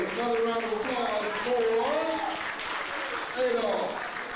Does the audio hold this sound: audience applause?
yes